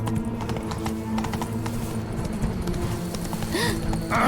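A horse's hooves gallop in The Witcher 3, a rapid, dense clip-clop close and loud under game ambience, with a short whinny-like sound near the end.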